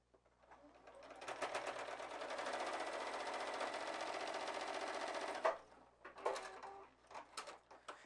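A sewing machine runs a steady buzzing stitch through fabric for a 3D pinwheel quilt block, building up to a constant whir for several seconds before stopping, then giving a few short bursts and clicks.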